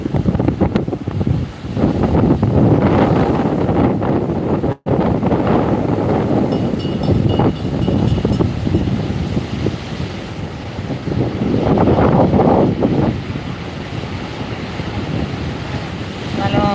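Strong sea wind buffeting the microphone on Rock Beach, Pondicherry, in daytime, with surf rushing in the background in loud, continuous gusts.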